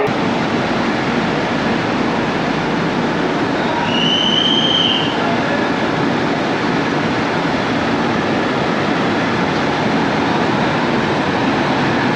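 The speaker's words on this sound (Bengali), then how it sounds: "ট্রেন কিন্তু বেরিয়ে গেল বিশাখাপত্তনম রেলওয়ে জংশন" Inside the Falaknuma Superfast Express as it pulls out of Visakhapatnam Junction at night: a loud continuous rumble of wheels and carriage, with a brief high squeal of wheels partway through and no voices.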